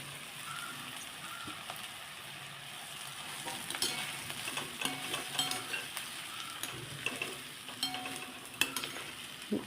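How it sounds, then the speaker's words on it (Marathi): Leftover chapati crumbs stirred and fried in a pan over medium heat, giving a steady close sizzle broken by scraping and clinking strokes of a spoon throughout. "आता हा चपातीचा चूर आपण ह्याच्यावर घालून घेऊया"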